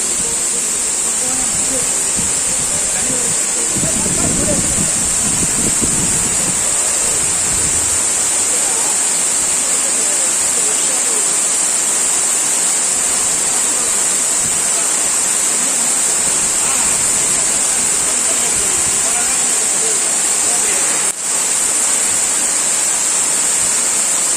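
Water gushes strongly from a spring at tree roots in the Sadhasivakona hills near Puttur, a loud, steady, close rushing roar that goes on the whole time, with someone talking faintly underneath.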